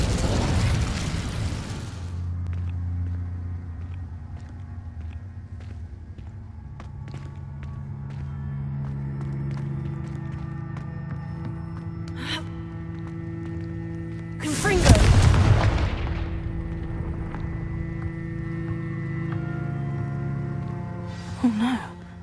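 Fire spell blasts in Hogwarts Legacy burst out as loud booming whooshes, one at the start and another midway, with a smaller pop near the end, separated by quieter ambient game sound.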